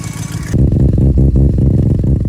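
A turbocharged car engine with a leaking exhaust manifold catches on a cold start and idles close and loud, with rough, uneven chuffing pulses.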